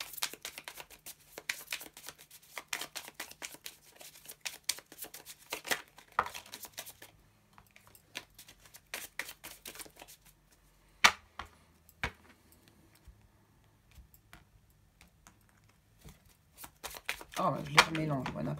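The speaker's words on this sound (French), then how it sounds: "je les remélange" Tarot cards being shuffled, crisp riffling and flicking in quick clusters close to the mic, with someone talking quietly at times.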